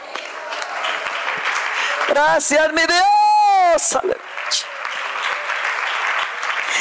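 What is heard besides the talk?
congregation applause in church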